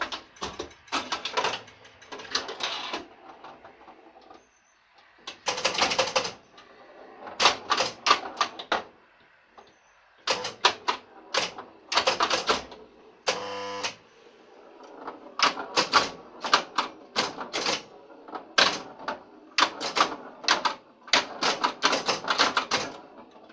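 A 1964 Bally pinball machine in play, with bursts of rapid mechanical clicking, clacking chimes and relay chatter in busy clusters, a brief buzzing stretch midway, loud and close with short pauses between volleys.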